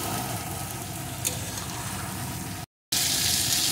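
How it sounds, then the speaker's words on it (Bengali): Eggplant sautéed in a pan with spices, turmeric and salt for a thin tangra fish curry gives a steady, close sizzle with light scraping, then stops in a brief silent gap before the sizzle returns louder. "এখন বেগুনটাও আমি সব কিছুর সাথে ভালো করে কষিয়ে নেব।"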